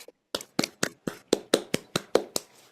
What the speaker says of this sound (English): if everybody would like to unmute and give Annie a round of applause